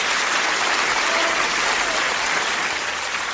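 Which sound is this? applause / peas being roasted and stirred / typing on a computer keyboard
applause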